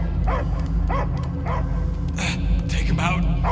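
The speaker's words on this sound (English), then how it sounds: "I hear only barking." A dog in Guardians of the Galaxy gives about half a dozen short, close barks and yips in a fairly even rhythm. Later a voice speaks over the noise, with a low background hum underneath throughout.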